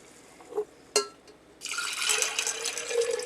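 Boiled water is poured over sprouts to soak them in a kitchen, with a couple of small knocks and clinks first, then a steady, close splashing pour that runs for over a second without any talk.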